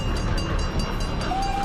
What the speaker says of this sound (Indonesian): Ketika kereta api itu semakin dekat dengan jembatan,